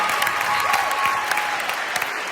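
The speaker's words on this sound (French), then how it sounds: "Applaudissements, s'il vous plaît, pour Céline." A television studio audience applauds warmly, a brief burst of dense, even clapping from a crowd, sustained and close for a couple of seconds.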